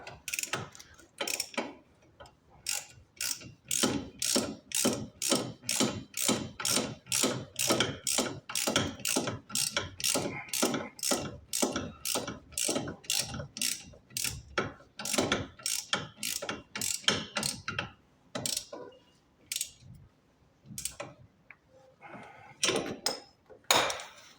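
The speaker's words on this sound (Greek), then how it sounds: "Βάζουμε τη βίδα μας κάτω στο άκρο που συνδέει με το μπαλάκι του ψαλιδιού. Σφίγγουμε." Ratchet wrench tightening the bolt on a car's control arm ball joint during hub bearing replacement: a long, steady run of close, loud ratchet clicks in a fast even rhythm, with a few slower clicks at the end and no talking.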